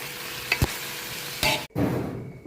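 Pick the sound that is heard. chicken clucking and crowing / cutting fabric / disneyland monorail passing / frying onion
frying onion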